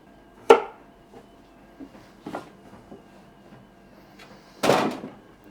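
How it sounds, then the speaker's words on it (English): A knife cuts pumpkin into smaller pieces for a roasting tray: two sharp chops about four seconds apart, the second longer and crunchier, with a few faint knocks of the blade between them. "I'll just cut into slightly smaller pieces and throw that in the tray"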